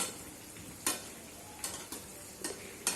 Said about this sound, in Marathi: छान वड्यांचं सोनेरी कलर येईपर्यंत तेलामध्ये तळून घ्यायचे